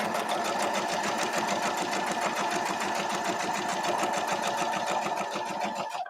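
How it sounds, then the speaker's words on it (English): Sewing machine stitching quilt block pieces together, a steady rapid mechanical chatter running continuously for about six seconds before stopping abruptly. "I'm going to put my right sides together and sew it."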